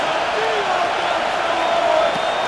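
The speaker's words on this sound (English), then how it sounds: "This crowd into it now as we get to 3rd down." Stadium crowd noise in Madden NFL 26 as the Chiefs face the Raiders on 3rd down: a steady, dense roar of many voices holding loud and even throughout, with no distinct cheer peaks.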